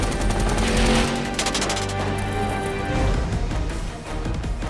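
Rapid bursts of gunfire on a Furious 7 action film set, loud and dense, like automatic weapons firing with crashing impacts, continuing for several seconds.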